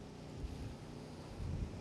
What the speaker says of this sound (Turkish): Yani rüzgar çok şiddetli baksanıza.